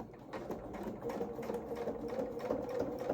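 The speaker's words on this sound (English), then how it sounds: "We're then going to sew along that seam and just top stitch this shoulder piece down" A sewing machine runs steadily as it top stitches the thick shoulder seam of a small coverall outfit, giving a continuous close mechanical whir without voices.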